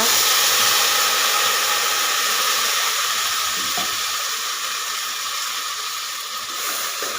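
Ground masala sizzles as it goes into a pan of radish sambar, giving a loud, even hiss that fades slightly over several seconds.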